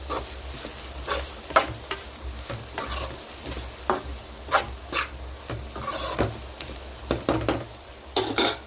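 Cabbage frying in a pan with salt, a steady close sizzle under repeated scraping strokes and clinks as it is stirred and mixed, without talk.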